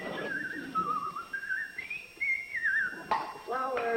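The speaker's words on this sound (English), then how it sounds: "I'll be back when the tea kettle whistles." A tea kettle whistles in a kitchen: one shrill, wavering tone glides up and down for about three seconds, then voices speak over it.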